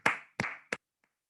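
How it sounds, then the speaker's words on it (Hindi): Three sharp, close hand claps at a corporate recognition event in a hotel, evenly spaced in quick succession, followed by a faint fourth tap and then quiet. "जोरदार तालियों के साथ।"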